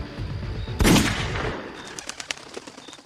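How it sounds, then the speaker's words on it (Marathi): A single loud gunshot bursts out near the start, followed by a fading rumble and a few faint sharp ticks and bird-like chirps in a quiet outdoor setting. "आत्ता घाला गोळी"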